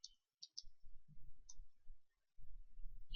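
A few light, quick keystrokes tap on a computer keyboard while drafting in AutoCAD, sharp, close clicks spaced apart over a low background rumble.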